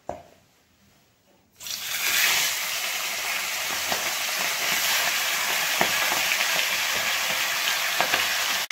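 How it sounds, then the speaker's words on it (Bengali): Two pieces of rui fish head frying in hot mustard oil in a kadai, a loud, steady sizzle that bursts in after a quiet start and crackles on evenly with small pops. "মাথার টুকরো দুটো লাল করে ভেজে নেব।"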